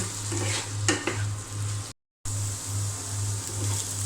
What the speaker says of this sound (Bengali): স্বাদ মতো লবণ তো ভালো করে নেড়ে চেড়ে দিয়ে আমি ঢাকনা দিয়ে ঢেকে দেব